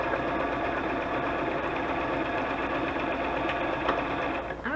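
A sewing machine stitches index card pockets in one steady, close, continuous mechanical whir with a fast even rhythm, stopping just at the end.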